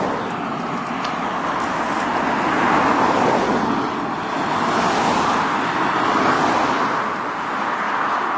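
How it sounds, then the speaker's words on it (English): A car passes along a road in a small town beside walled sheep fields, a steady rushing roar that swells and fades as it goes by, with no talking. "Watch as this car passes."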